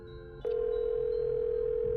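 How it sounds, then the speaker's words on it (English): A telephone call in the Nancy Drew game The White Wolf of Icicle Creek: a brief tone gives way to a loud, steady electronic ringing or line tone that holds unbroken, with no answer. "Phone rings but no one answers."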